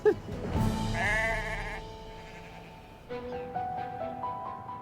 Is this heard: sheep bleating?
yes